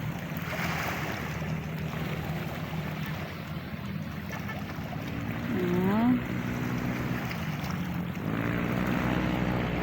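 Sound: pump boat passing on the sea

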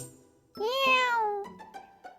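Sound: cat meowing, Wilbur the cat

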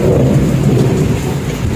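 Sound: heavy rain with thunder outside

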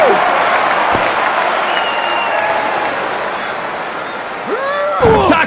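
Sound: crowd cheering and applauding in WWF Attitude wrestling video game

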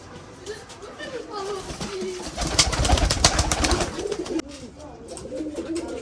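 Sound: pigeons at a pigeon farm

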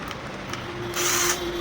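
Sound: Ingco cordless battery drill running

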